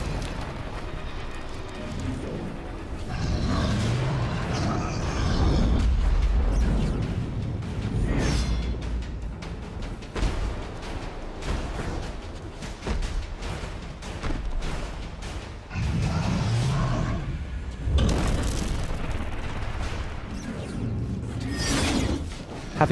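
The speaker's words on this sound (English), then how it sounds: "Each piece is protected by multiple latches that must be destroyed in order to remove it." Armor latches on an ogre are smashed apart in the Xbox One game Extinction, giving repeated heavy crunching, creaking mechanical impacts in uneven bursts amid loud, rumbling game action.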